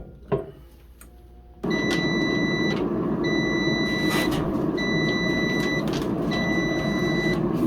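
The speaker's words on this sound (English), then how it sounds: "we're actually getting the alarm to shake it" A COSORI smart air fryer's shake reminder alarm beeps four times in an even rhythm, each tone held about a second, over a steady background hum.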